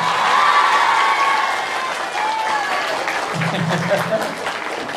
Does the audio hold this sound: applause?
yes